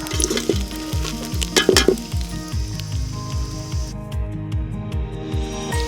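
Dried red chillies fry in oil over a low flame with a steady sizzle, broken by regular rhythmic scraping as they are stirred, up close and without speech.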